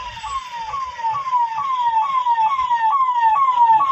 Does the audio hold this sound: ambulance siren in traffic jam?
yes